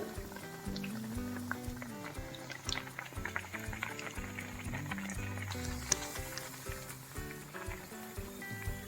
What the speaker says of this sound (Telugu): వాడ ఇప్పుడు తిరగేసుకుందాం బ్రౌన్ కలర్ వచ్చేదాకా గోల్డెన్ బ్రౌన్ వచ్చేదాకా వేయించుకోవాలి